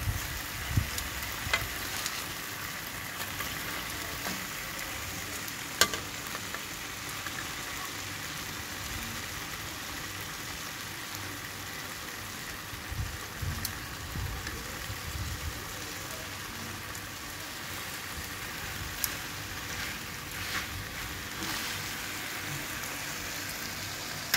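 Barbecue sizzling in an old, well-worn frying pan, a faint, steady rain-like hiss throughout with scattered pops and occasional clicks, no voices.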